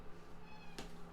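A house cat meows once at an open door, a short clear cry over a faint steady background hum.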